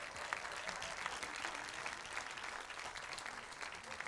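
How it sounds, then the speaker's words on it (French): Audience applause at the opening ceremony of the Saint-Jean-de-Luz International Film Festival, steady and dense clapping from a crowd that fills the room for the whole stretch without a break. "On peut applaudir la famille Garat, Maïté, Chabi et toute l'équipe du Select."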